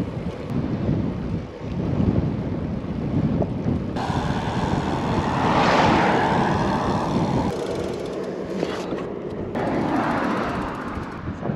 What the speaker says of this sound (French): C'est couvert, il fait frais, il y a du vent.